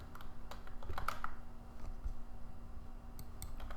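Typing on a computer keyboard, a quiet irregular patter of light clicks and taps close by, with no talking over it.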